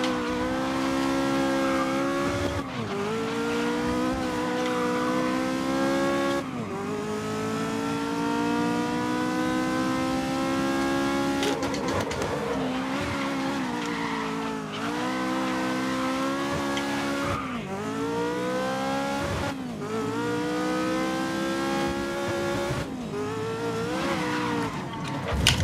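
A Ferrari 330 P4 race car in the GRID racing game on a hot lap. The engine revs loudly, climbing and dropping through repeated gear shifts with brief tire squeals, continuous and close, with no talking.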